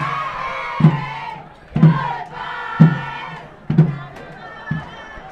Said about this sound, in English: the Saddlebrook crowd letting the Glen Rock fans know that, hey, it's time for you guys to say goodbye